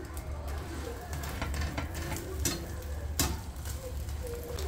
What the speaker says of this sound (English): And now she's frying one more egg and one more paratha for my Bunu.